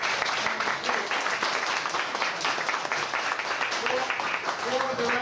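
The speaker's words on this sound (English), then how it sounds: "chief of the fire department, Chief Bloom, who deserves a round of applause" Guests at a veterans' lunch give a sustained round of applause, a dense patter of many hands, while a speaker's amplified voice carries on over the clapping.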